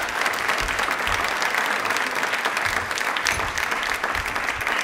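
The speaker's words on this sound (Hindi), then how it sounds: "उनके लिए दिल से एक बार तालियां जरूर बनती है। जोरदार बजा दीजिए।" An audience at a quiz event for Bhagwan Birsa Munda's birth anniversary and Janjatiya Gaurav Divas breaks into loud, sustained applause, many hands clapping densely for several seconds.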